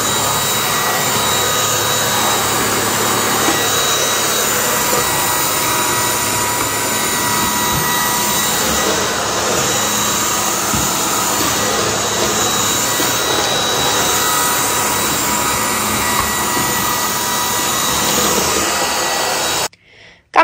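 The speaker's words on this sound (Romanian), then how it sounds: "vom aspira." A vacuum cleaner runs indoors, sucking small crumbs and debris off the floor while setting up an Easter decoration, its motor a loud, steady roar that holds unbroken for about twenty seconds before cutting off abruptly.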